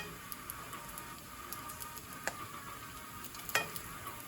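Bacon sizzles steadily in a pan swimming in oil, a faint continuous crackle with occasional sharper pops, heard without any talking.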